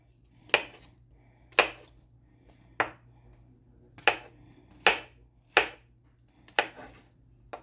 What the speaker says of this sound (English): I'm going to cut up some of these mushrooms, just in big slices like this.